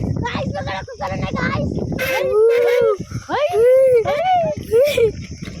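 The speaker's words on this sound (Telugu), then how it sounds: "మూడు కుక్కలు ఉన్నాయి సార్." Several dogs, three in number, howl and yip nearby at night in drawn-out, rising and falling wails, with short barks mixed in. Someone talks over the start.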